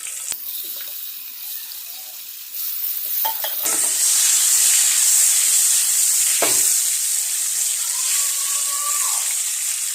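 Boiled eggs dropped into hot oil with turmeric and salt for egg curry, a sudden loud, steady sizzle that starts partway through and continues with occasional stirring scrapes, close and without speech.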